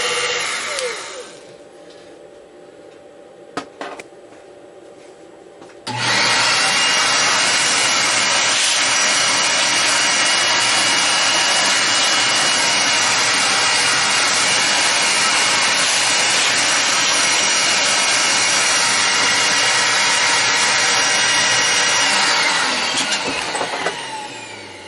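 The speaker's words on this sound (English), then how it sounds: "It's a little hairy coming off the back side. So let me deburr this thing." A machined metal part is deburred with a loud, steady high-pitched power tool that switches on after a quieter stretch with a few light clicks and then runs continuously for nearly twenty seconds before tapering off.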